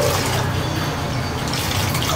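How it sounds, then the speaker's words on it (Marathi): Water poured into a cooking pan while making stuffed bangda (mackerel) fry: a steady, full rushing pour that holds at an even level for about two seconds, with no voices. "ह्याच्यामध्ये ना आता पाणी टाकायचं आपल्याला."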